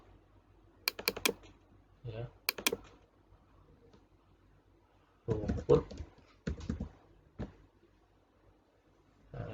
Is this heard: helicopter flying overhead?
no